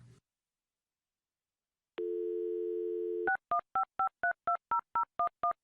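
A desk telephone in a board meeting room gives a steady dial tone, then a quick run of about a dozen dual-tone DTMF keypad beeps in even rhythm as a call is dialed, loud and close with no talking.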